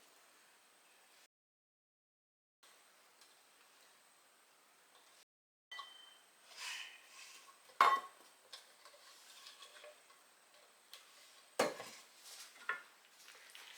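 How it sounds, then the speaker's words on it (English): Pasta noodles being stirred into gravy in a pot for dirty pasta, scattered scraping and clinking of a utensil against the pot with a few sharper knocks, fairly close, after a quiet start. "Let me get this all stirred in here."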